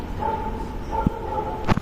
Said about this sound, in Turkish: Şimdi bakın bu havlayan bizimkiler